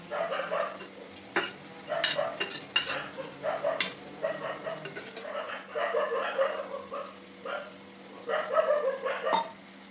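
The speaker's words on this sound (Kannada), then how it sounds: "ಅದು ನೀಟಾಗಿ ಕುದೀತಾ ಇದೆ, ಎಣ್ಣೆ ಎಲ್ಲ ಬಿಟ್ಕೊಂಡಿದೆ" Chicken and masala simmer in oil, soft bubbling and spluttering from a pan, with scraping stirs and clinks of a utensil against the pot at irregular moments.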